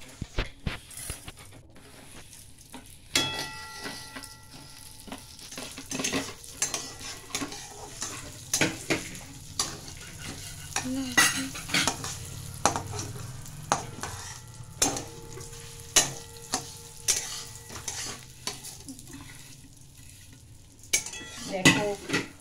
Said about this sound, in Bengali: এইবার চালটাকে আমি ঘি ভেজে নেব